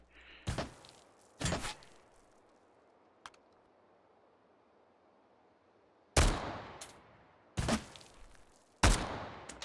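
Gunfire in the VR game Hot Dogs, Horseshoes & Hand Grenades: sharp, loud shots in irregular bursts, two early, then three more spaced later, with a faint single pop between and quiet room noise otherwise.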